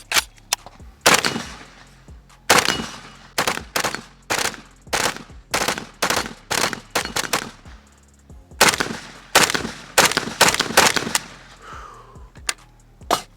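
Pioneer Arms 556 Sporter AK rifle in 5.56 fired at a range, a long run of loud close shots with uneven pauses, some rapid strings and a few single rounds, each with a sharp crack and short ringing tail.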